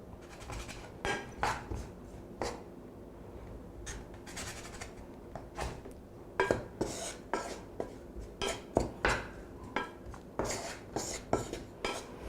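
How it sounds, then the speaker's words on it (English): Chorizo being stirred in a pan for a frittata, with irregular scraping and tapping of a utensil against the pan, fairly quiet and close, alone without talk. "mixing it around for a few minutes until that chorizo gets nice and crispy"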